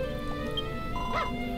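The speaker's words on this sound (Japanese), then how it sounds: "ワンワン、犬なんですね、名前ね。" A dog in the video game Dragon Quest Builders 2 lets out a single short yip over steady background music, brief and fairly soft.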